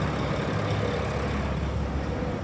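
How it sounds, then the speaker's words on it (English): A steady low rumble of a heavy vehicle on the road fills the background, continuous and fairly distant, with no talking. "sorry about the background noise, by the way, there's just a truck coming up here."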